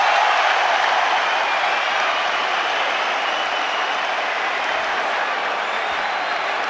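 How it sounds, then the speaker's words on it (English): A boxing crowd roars and applauds steadily through the Pacquiao vs Cotto fight of November 2009, a dense, continuous wash of clapping and cheering with no break. "The crowd living every single minute."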